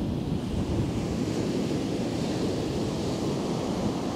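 Heavy surf pounds a beach at Kilcunda, a continuous loud roar of breaking ocean waves mixed with wind buffeting the microphone, with no voices.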